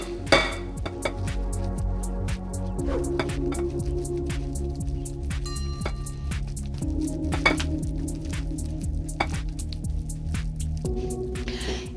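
Yogurt or sour cream with a pinch of cinnamon is stirred in a bowl, soft wet squishing and repeated spoon taps and clinks against the bowl, close and steady.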